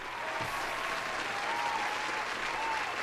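Soft, continuous clapping from a room of people, fairly distant and even, with a faint voice briefly audible underneath.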